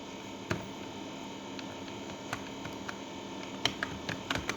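Scattered keystrokes on a computer keyboard while a cell's contents are edited in a spreadsheet, a few sharp taps spread out over a quiet room hum, with a quicker cluster near the end.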